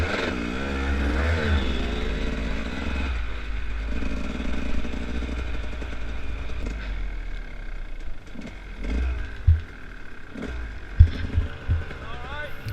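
Dirt bike engine revving during an enduro cross-country race, a steady rumbling drone with rising and falling throttle, then clattering knocks as someone talks over it.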